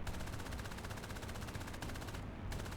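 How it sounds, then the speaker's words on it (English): Aircraft machine guns firing in War Thunder, a rapid, steady stream of gunfire that runs continuously with brief breaks, close and loud. "Maybe fire some of the MGs. Crit him with the MGs."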